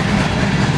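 BNSF Railway freight train rolling past close by, a steady loud rumble of wheels and cars with no pause, no voices.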